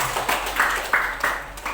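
A school class claps hands together in a classroom lesson, a few short rhythmic bursts of clapping in a quick pattern, moderately close and fairly soft.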